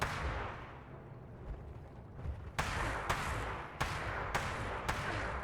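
Gunshots in Fallout 76 from a player in power armor firing bullets or energy cells, a run of five sharp cracks spaced about half a second to a second apart over a rumbling game background.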